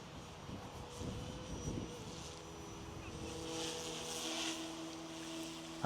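A Goosky S2 MAX RC helicopter flies in wind on its first flight after T8 transmitter setup, its steady whining rotor and motor tone holding a sustained pitch throughout, buffeted by gusts.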